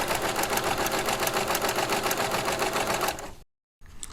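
A Baby Lock serger stitches wired ribbon at a long stitch length, a fast, even mechanical whir with rapid needle ticking running steadily for about three seconds, then cutting out abruptly before a faint restart.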